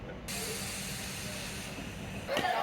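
Indian overnight express train standing at a station, the Lingampalli Narsapur Express, giving a steady broad hiss and mechanical rumble that holds evenly, with a brief louder rise near the end.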